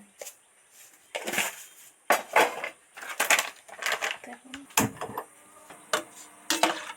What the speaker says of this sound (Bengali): নুন আর হলুদটা সবিনের সাথে ভালো করে মিশিয়ে দিচ্ছি